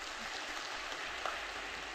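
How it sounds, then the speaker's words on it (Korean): Audience at a prayer-retreat church gathering claps to welcome two guest speakers, a steady, moderately distant wash of applause holding evenly throughout. "환영의 박수 한번 쳐주세요"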